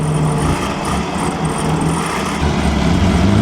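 Vintage Mille Miglia cars, Bugattis among them, run their engines nearby in a loud, continuous, throaty rumble that rises slightly toward the end.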